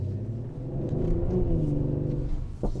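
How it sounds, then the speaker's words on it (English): An Audi SQ5 Sportback's exhaust gives a low rumbling burble as the throttle lifts off, a steady close engine drone throughout with a brief sharper pop near the end and no voices. "You got a little burble from the exhaust there when I lifted off the throttle."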